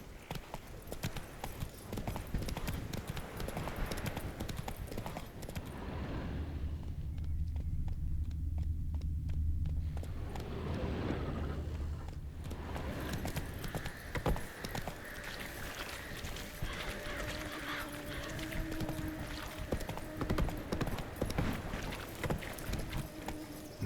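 Hooves of Roach, a horse in The Witcher 3: Wild Hunt, clatter in a quick galloping rhythm, up close and continuous, with a deep rumbling lull partway through and game music underneath.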